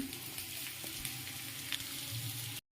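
Cabbage and capsicum frying in a pan for a rice dish: a faint, even sizzle with small crackles and a few soft stirring knocks, cutting off abruptly at the end.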